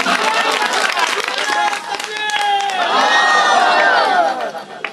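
A large crowd at an Islamic speech gathering roars back in unison, a loud, dense wall of chanting and shouting voices that swells, dips briefly, then surges again before easing off at the end.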